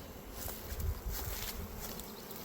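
A dense, steady drone of many honey bees buzzing together in an opened hive, continuous and close, with faint low rumbles underneath.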